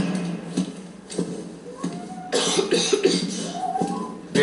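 A few rough coughs sound close by in Call of Duty: Modern Warfare, spaced irregularly, with muffled footsteps and a brief voice mixed in.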